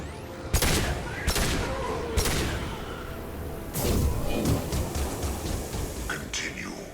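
Gunfire in a Mass Effect 2 firefight, with sharp shots at about 0.5, 1.3 and 2.2 seconds and a denser burst from about 3.7 seconds onward, heard over a continuous battle rumble while voices talk.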